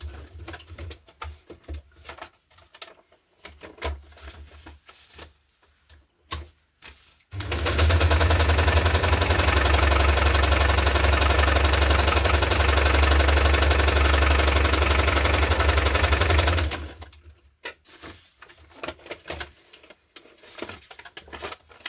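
A sewing machine stitches through a hardcover junk journal in one continuous loud, steady run of about nine seconds, with quiet handling and shuffling before and after it.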